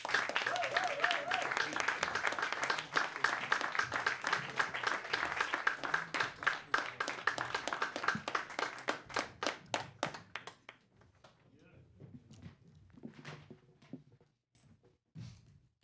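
Audience applause for a comedian at a live comedy show, dense loud clapping that thins into scattered claps and fades to near silence with a few last hand claps.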